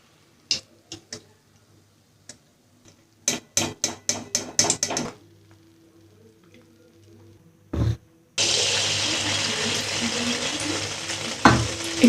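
Malpua frying in hot oil, preceded by scattered clinks and taps of utensils, then a steady loud sizzle taking over in the second half.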